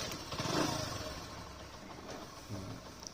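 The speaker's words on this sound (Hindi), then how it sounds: "बैटरी डाउन हो गया लग रहा, किक से स्टार्ट कर लेते हैं" A Bajaj Vikrant motorcycle engine with a flat battery is kick-started, turns over and settles into a steady running rumble, with a brief rev near the end.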